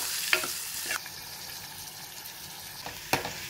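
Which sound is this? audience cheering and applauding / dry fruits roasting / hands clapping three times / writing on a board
dry fruits roasting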